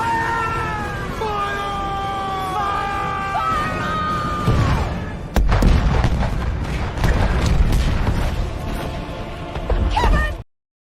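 A cannon sound effect fires with a heavy boom and crashing rumble, preceded by warbling tones and followed by sustained loud blasting debris, close and dominant.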